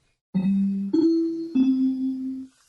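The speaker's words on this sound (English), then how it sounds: "featuring characters and actors from NBC shows producing the NBC chimes." The three NBC chimes, notes of a C major chord produced by actors, ring one after another, each holding and fading slightly before the next, clear and alone.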